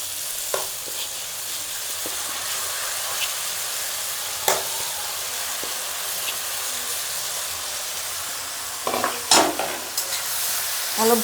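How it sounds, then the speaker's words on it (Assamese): Rice and dal fry with peas and other vegetables in a pan for masala khichdi, a continuous close sizzle with occasional spoon scrapes and clatters that grow louder and busier toward the end. "অলপ ভাজি ল'ব লাগিব চাউলটো,"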